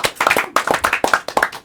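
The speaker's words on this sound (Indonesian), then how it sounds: "tepuk tangan dulu sekali lagi dulu" Small group clapping in a podcast studio, a few rapid bursts of close, sharp handclaps in quick uneven clusters, briefly broken by short pauses.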